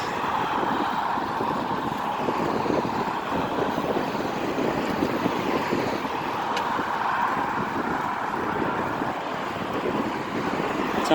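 Road traffic rushes past alongside a riverside bike path by the lower Jungnangcheon in Seongdong-gu, Seoul, a continuous broad roar mixed with wind buffeting the microphone while cycling, with no talking.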